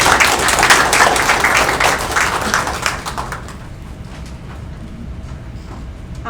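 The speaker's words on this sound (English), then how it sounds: "Please give a big round of applause for Randizia" Audience applause for a performer at the Hawaii Book and Music Festival, lively clapping for about three seconds before fading into quieter room noise with scattered taps.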